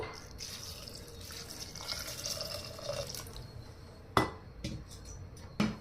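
Water trickles and drips steadily into a pressure cooker holding beans for beans palya, a soft close pour ending in a few sharp clanks of the vessel.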